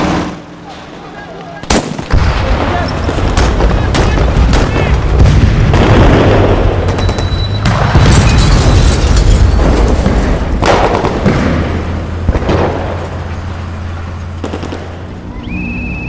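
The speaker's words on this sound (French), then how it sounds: "les chars ripostent." Tanks returning fire during the August 1944 Paris insurrection: a sudden loud blast followed by repeated booming artillery shots and rumbling explosions, with sharp cracks scattered over a continuous low roar.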